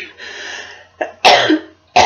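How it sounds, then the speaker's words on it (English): A person coughs at close range: a rough hoarse burst followed by a second sharp cough, after a brief throaty sound earlier, with no talking. "I will cough up a lung."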